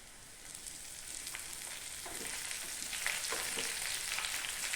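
Curry leaves sizzle and crackle in hot oil for an Angamaly fish curry, a steady bright frying hiss that grows slightly louder, with a few sharper pops near the pan.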